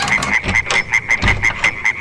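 Frogs croak in a rapid, regular series of about a dozen loud, close calls at an even rhythm, sounding alone without any voices.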